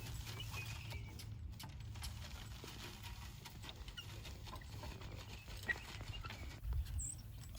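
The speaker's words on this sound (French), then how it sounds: "notre cheval ne veut pas marcher dans la terre déjà rabattue" A farm horse pulling a plough through a spring garden plot, its hooves giving soft, irregular thuds and scuffs on loose soil over a steady low rumble, with faint clinks of harness and a couple of sharper knocks near the end.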